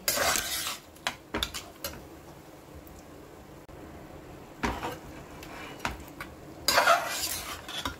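Metal spoon scraping and stirring rice with fish head in a large wok for a Bengali fish-head muri ghonto, clattering strokes in bursts with quieter sizzling between.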